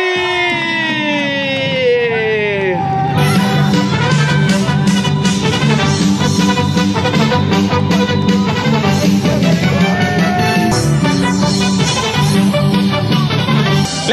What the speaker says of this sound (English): another big round of applause for our champion of the limbo competition!